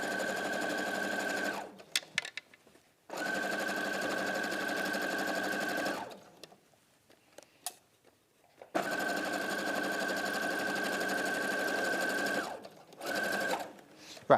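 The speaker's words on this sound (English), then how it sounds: "now I'm going to sew this diagonal seam" Domestic sewing machine stitching a diagonal quarter-inch seam, three steady motor-driven runs of rapid stitching separated by short pauses, close and clear with no talk.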